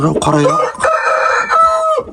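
A Korean-breed rooster crows once, loud and close, its drawn-out call rising and then trailing off.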